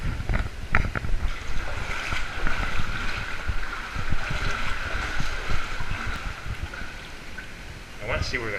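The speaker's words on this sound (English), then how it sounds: "I hear water sounds over there" Water splashes and rushes inside a deep sewer tunnel, a rough, echoing wash with irregular surges that carries on steadily throughout, with some voice mixed into the noise.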